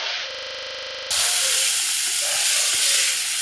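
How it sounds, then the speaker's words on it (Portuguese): Tomato and bell pepper sautéing with onion in a hot pan, a sudden loud, steady sizzle and hiss starting after a brief electronic hum, with faint stirring clicks and no talking. "Colocando aqui tomate e pimentão. Dá uma refogada junto com a cebola."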